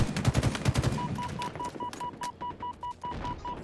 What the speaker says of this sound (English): Beano Day is trying to pepper him with shots